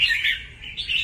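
A red-whiskered bulbul, freshly caught and caged, calls in a quick run of bright, warbling chirps, loud and close, with no talk over it.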